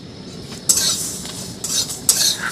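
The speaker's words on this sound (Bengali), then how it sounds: "প্রথমে শুকনো লঙ্কাগুলো একটু শুকনো খোলায় ভেজে নেব" Dry red chillies and spices stirred in a dry pan while roasting for a mixed vegetable pickle, a few scraping, rustling strokes with a faint sizzle close by and no voices.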